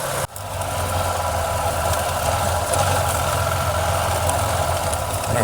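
Motorcycle engine running steadily during a Kimberley adventure ride, a loud continuous mid-pitched drone after a brief dropout at the start, with no talking over it.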